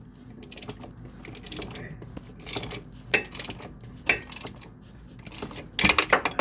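A 2006 Volvo XC70 engine with the oil pan removed is turned over by hand at the crankshaft, giving irregular metallic clicks, ratcheting ticks and light clunks in short bursts, close by, with no talk.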